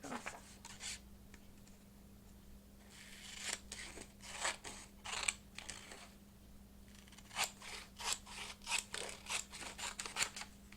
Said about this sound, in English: I'm going to trim this ever so slightly